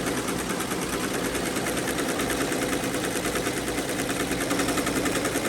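Two 15-needle embroidery machines run side by side in a small workspace, making a dense, rhythmic, rapid clatter with a steady motor drone underneath. The sound is close, continuous and evenly pulsing.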